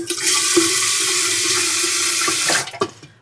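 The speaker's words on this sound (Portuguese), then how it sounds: "Vou pôr esquentar um pouco de água." Tap water gushes steadily into a cooking pot in a home kitchen for about two and a half seconds, then shuts off, leaving a few light clunks of the pot being handled.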